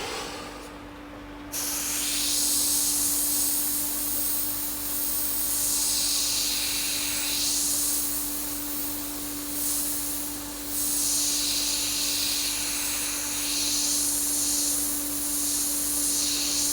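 An airbrush lightly sprays paint onto a Senna F1 car model, a continuous close hiss that starts after a brief quieter moment, then swells and eases in a few gentle passes with a steady compressor hum underneath.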